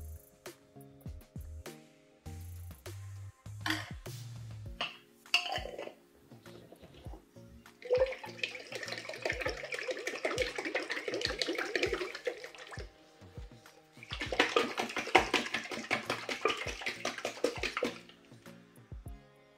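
Salad vinaigrette ingredients being stirred and whisked together in a bowl, giving two sustained bursts of close, busy liquid swishing and clinking, with quieter pauses between them.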